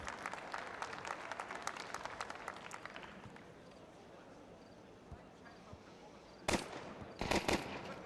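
Gunfire in a professional Counter-Strike 2 match on the Inferno map, with bursts of shots over crowd noise and commentator chatter. A couple of sharp bursts stand out near the end.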